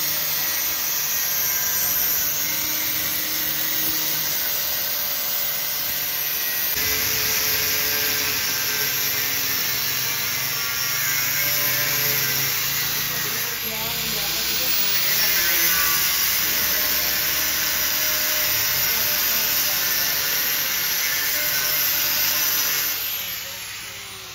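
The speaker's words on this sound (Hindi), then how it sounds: "तो अब हम इसको काटने लगे हैं। एक अदद ग्राइंडर आपके पास होना चाहिए" An angle grinder cuts through an old metal gear sprocket with a steady, loud, high-pitched whine and grinding roar that runs continuously without pause and with no talking.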